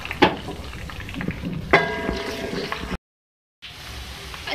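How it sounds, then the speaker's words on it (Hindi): Ginger garlic paste fries in a pan for a chicken tikka karahi, a steady soft sizzle with a few louder stirring scrapes, broken by a short silent gap before the frying resumes. "अदरक लहसुन का पेस्ट इसमें ऐड कर रही हूँ 2 खाने के चमचे। इन दोनों को भी अच्छे तरीके से फ्राई करेंगे।"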